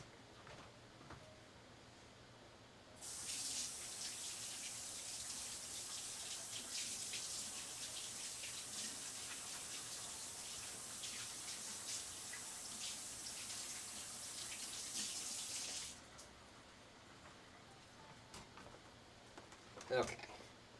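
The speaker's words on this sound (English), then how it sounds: "Let me rinse off real quick." A water tap runs in a steady, hissing stream for about thirteen seconds while hands are rinsed off in a workshop setting, then shuts off, leaving quiet room tone and a small clatter near the end.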